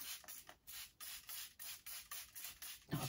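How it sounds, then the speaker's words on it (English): Short repeated bursts of Schwarzkopf heat protection hair spray, about a dozen quick hissing sprays in a steady rhythm, close and clear with no talking. "This is my heat protection spray by"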